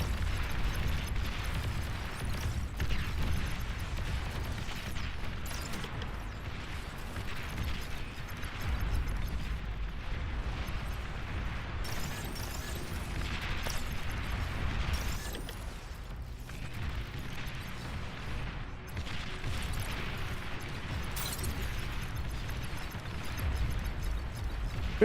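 Artillery shells explode in a massive real-time strategy battle in Beyond All Reason, a continuous low, rumbling barrage of muffled booms at a fairly faint level with no speech.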